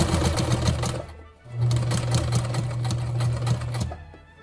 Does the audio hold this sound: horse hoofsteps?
no